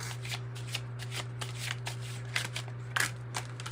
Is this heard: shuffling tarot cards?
yes